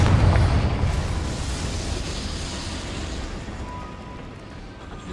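A Confringo spell detonates in Hogwarts Legacy on PS5, a loud booming blast at the start that rolls off into a long rumbling decay.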